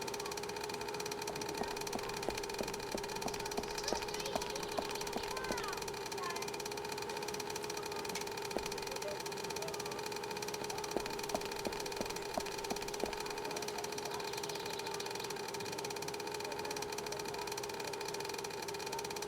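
Steady engine hum of a boat in the adventure game Secret Files 2: Puritas Cordis, a constant droning tone that runs unbroken throughout with faint ticking clicks over it and a voice talking softly beneath.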